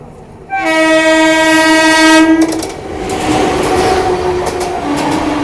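The Sachkhand Express, bound between Amritsar and Hazur Sahib Nanded, passes with a loud, sustained horn blast followed by the rumble and clatter of rolling coaches nearby.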